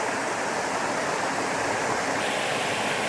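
A rushing stream pours over bedrock in a steady, dense roar of water, close and unbroken, with no voices.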